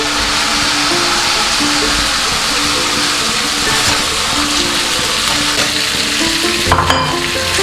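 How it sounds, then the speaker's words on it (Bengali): Potatoes tossed into sizzling cumin paste fry loudly and continuously in a pan, with scraping stirring strokes and utensil taps over a dense, even hiss. "এইবারে আমি আলুগুলোকে দিয়ে দেবো"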